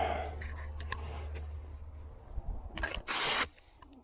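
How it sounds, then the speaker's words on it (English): A short burst of hissing primer spray from a spray gun onto a hail-damaged 2009 Mustang, loud and close, preceded by quiet clicks and handling noises. "mixed up some cup full of primer, and we'll spray some on there"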